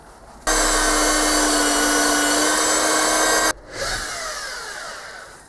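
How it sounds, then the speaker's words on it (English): A power drill bores holes in metal shaper column and bullwheel parts: a loud, steady high whine runs for about three seconds, cuts off abruptly, then a fading, quieter whirr follows as the tool spins down. "It's just drilling some holes."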